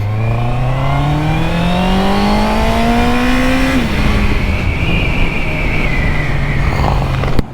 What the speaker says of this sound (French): en plus ce bruit du 4 cylindres